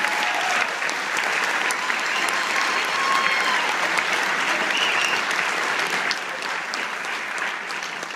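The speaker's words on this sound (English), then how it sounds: "give the 7th and 8th graders another round of applause" A school audience gives 7th and 8th graders a warm round of applause at a Christmas concert, with thick, continuous clapping from many hands holding a steady, loud level throughout.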